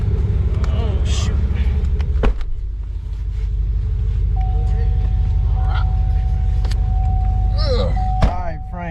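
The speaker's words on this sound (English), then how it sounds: "We're gonna do a little ride along in the old Escalade." A Cadillac Escalade rumbles along with a low steady engine drone from inside the cabin, broken by a door thunk and short electronic chimes, while people talk over it.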